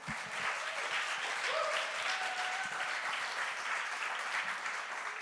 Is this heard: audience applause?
yes